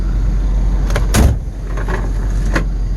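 A 1988 Ford Escort GL door opens with a brief clunk, followed by a soft mechanical whir as the automatic seat belt moves along its track, all over a steady low background rumble.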